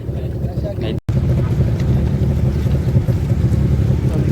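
A boat on the sea near Colaba fort at Alibag approaches the landing. Its engine gives a steady low rumble with wind buffeting the microphone, loud and close throughout.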